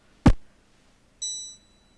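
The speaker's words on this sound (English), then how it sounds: "Suddenly the bell rings and you feel an invisible force trying to drag you into the present." Bell in the video game The Mothmen 1966, a sharp click or knock followed by a single bright, ringing chime that sustains briefly and fades, alone in near silence.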